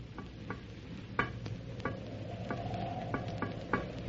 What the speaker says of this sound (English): It's tapping out an SOS.